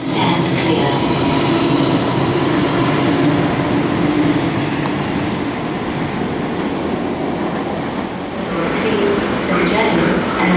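A Sydney Trains service roars through Granville station without stopping, a loud, close, continuous rumble of wheels and carriages that holds steady across the whole stretch and eases slightly near the end.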